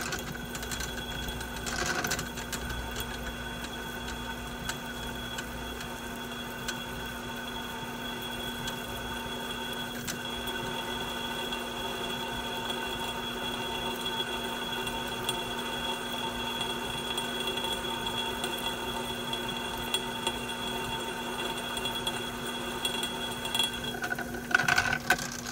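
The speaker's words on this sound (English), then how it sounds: "You turn it on and then just drill away." A power drill whirs steadily and continuously at close range, boring through thick metal for an air suspension bracket, a mechanical grinding hum that holds without pause.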